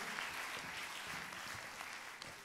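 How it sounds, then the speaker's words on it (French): An audience at a web conference session in Lorient applauds a speaker named Nicolas, a steady wash of clapping from a crowded room that is fairly faint and continuous throughout. "on peut vous applaudir encore une fois"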